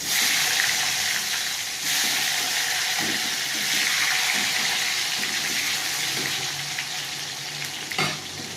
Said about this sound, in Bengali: আমি এবার কেটে রাখা টমেটো দিয়ে দেবো।